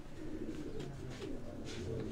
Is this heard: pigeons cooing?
yes